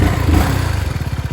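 A 250 NK motorcycle engine catches and settles into a steady, pulsing low rumble, close and fairly loud.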